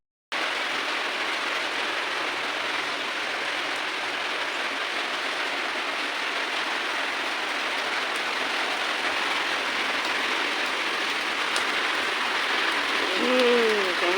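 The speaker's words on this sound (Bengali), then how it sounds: "গরম গেছে বৃষ্টি নেমেছে বাদল বাড়ছে" Steady monsoon rain falls in a dense, unbroken hiss at even loudness from start to finish.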